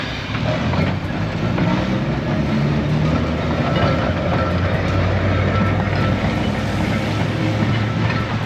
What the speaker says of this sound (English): The Manx Electric Railway is an electric tram railway